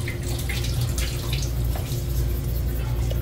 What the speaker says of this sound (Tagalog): Tapos lagyan natin tubig